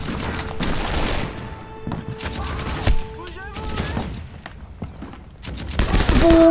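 Gunfire rattles in a Dien Bien Phu battle video game: repeated bursts and volleys of shots in loud clusters, with gaps between them, while a player talks in the background.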